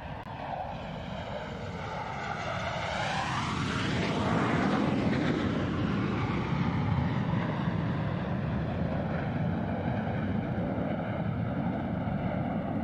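Blue Angels jets in diamond formation passing at the SUN 'n FUN airshow, a loud roaring jet noise that swells with a sweeping Doppler pitch shift as the four aircraft go by, then a sustained broad rumble afterward.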